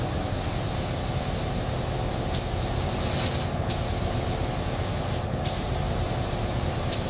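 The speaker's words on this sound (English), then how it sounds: "Ferrari's iconic Rosso Corsa finish is applied with robotic precision." A robot sprays Rosso Corsa paint onto a Ferrari 296 GTB body in a factory paint booth, a steady hissing rush of spray with a few brief sharp bursts.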